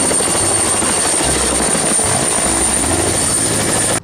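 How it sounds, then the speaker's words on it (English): Helicopter parked among cars, trucks and construction machines, a loud steady rotor drone with a rhythmic low thumping pulse, heard alone without talk. "This is a helicopter."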